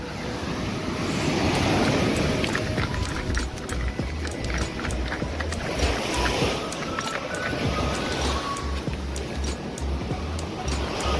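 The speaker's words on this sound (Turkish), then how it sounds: "Bayağı dalgalı çünkü deniz." Rough surf crashing continuously with heavy wind rumble buffeting the microphone, waves surging and breaking close by.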